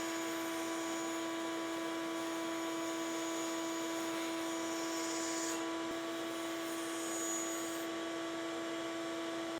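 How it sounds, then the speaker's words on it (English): A bandsaw runs steadily, slicing through a cork with a jig using a marked reference line; a constant motor whine with strong tonal hum holds for about ten seconds, close and even, no talking. "I'm going to take it to the bandsaw, and we're going to use this as our reference mark to slice this off"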